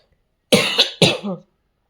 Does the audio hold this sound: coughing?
yes